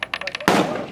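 A single sharp rifle gunshot cracks loudly at an outdoor shooting range, a close, powerful blast with a decaying tail, preceded by faint rhythmic mechanical clicks.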